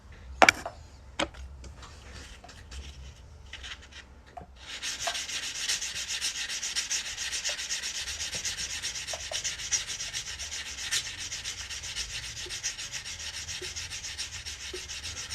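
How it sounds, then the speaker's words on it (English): A few sharp clicks and taps give way to steady, close rubbing as the cut edge of a coin ring made from a quarter is sanded, a continuous scratchy grind that keeps going at an even level, with no talking. "Next thing we're going to do is sand this cut edge"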